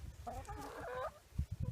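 Backyard hens give a short run of soft clucks and a drawn-out cackle, faint and outdoors among low rustling and handling noise beside a wire fence.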